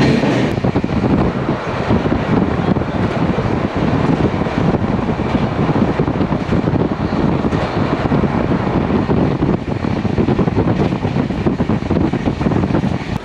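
A passenger train rumbles along steadily, with continuous clattering and wind roar throughout, loud and close, no speech.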